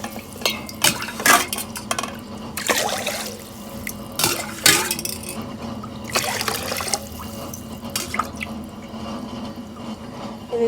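Water is poured in several glassfuls into a pot for kattu pongali, with repeated splashing bursts, clinks of the glass against the pot and brief pauses between pours.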